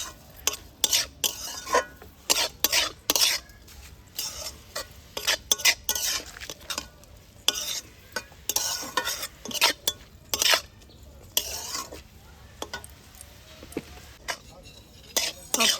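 Cabbage being stirred in a pan with cumin powder, coriander powder and sugar: repeated close scraping and clinking of a spoon against metal, in irregular bursts over a faint sizzle.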